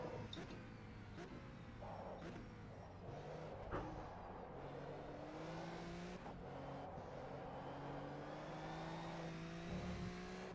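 A racing car engine in the SRCA racing game revs through a qualifying lap, rising and falling with each gear change and braking point, moderately loud and continuous.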